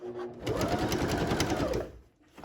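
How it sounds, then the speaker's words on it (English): A sewing machine stitches fabric for a skirt in one steady, close run of needle clatter lasting about a second and a half, then stops. "And so we will just start sewing."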